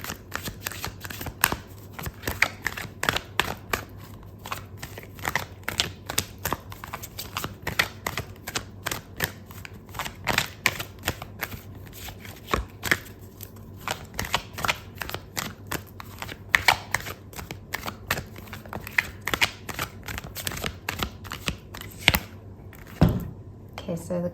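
Tarot cards shuffled by hand in a steady run of soft riffling flicks and slaps across the whole stretch, with a few sharper snaps as cards are drawn, close and fairly quiet.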